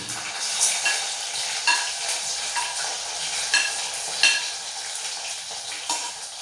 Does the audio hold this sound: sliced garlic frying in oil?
yes